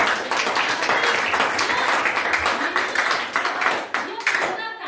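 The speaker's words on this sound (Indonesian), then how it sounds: "Berikan tepuk tangan sama si Melvia." Applause from students in a junior high school classroom, a dense, steady round of clapping lasting several seconds with some voices mixed in.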